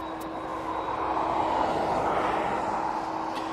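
A large airliner at East Midlands Airport pushing back, its engines giving a steady, fairly close roar with a constant whine that swells slightly mid-way and holds without a break.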